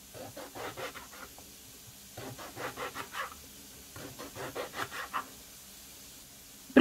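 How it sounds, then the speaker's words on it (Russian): A knife cuts eggplant into small cubes on a board in three quick rhythmic runs of strokes, separated by brief pauses. "Баклажаны точно так же нарезаю небольшими кубиками"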